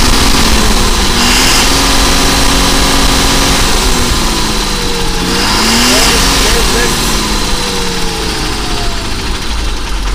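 An Ashok Leyland 4923 truck engine is held at full throttle, a loud, sustained roar with rising and falling tonal whines that keeps on throughout while a voice talks beneath it.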